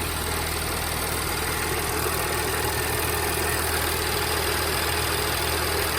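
A tuned Audi S4 B8 with a double pulley idles steadily and loudly, a constant smooth engine drone with no speech over it.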